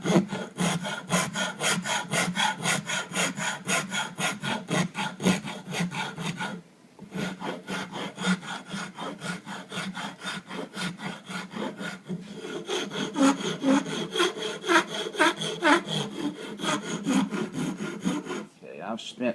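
Steel rasp shaping the back of a wooden spoon bowl held tight in a vise, a steady rhythmic scraping of repeated strokes, close and loud, with brief pauses near seven and eighteen seconds.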